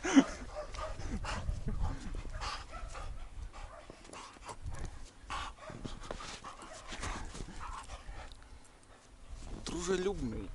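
A friendly two-year-old dog plays in the snow, giving scattered soft whimpers and brief barks between quiet stretches while a person talks nearby.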